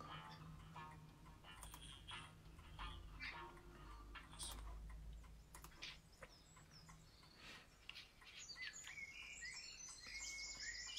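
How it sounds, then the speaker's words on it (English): A relaxing bird song recording plays faintly, with scattered chirps and tweets over a steady low background hum. "let's find bird song, because I know you all like the bird song."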